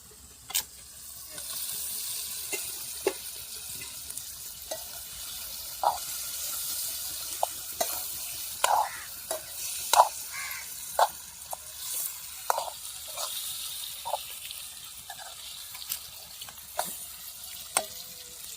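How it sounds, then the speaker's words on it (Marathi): Tilapia pieces fry in a spiced masala, giving a steady close sizzle broken by sharp pops and crackles throughout. "मसाले शिजलेत आता. तर मासे टाकून घेते."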